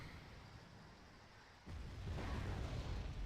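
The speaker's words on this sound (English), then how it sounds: "We've got Tornado dropping in some bombs." Bomb blasts from Tornado jets in the strategy game Wargame: Red Dragon, a low rumbling explosion bursting in halfway through and rolling on heavily over a quieter background of battle noise.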